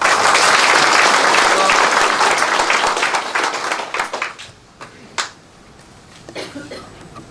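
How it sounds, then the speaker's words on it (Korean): A seated audience at a county governor's community meeting claps loudly and steadily, then the applause thins into scattered individual claps and fades out. "여러분, 군수님께 힘찬 환영의 박수 주시기 바랍니다."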